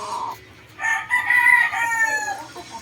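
A banded gamefowl rooster crows once nearby, a loud drawn-out call after a short cluck, with no talking.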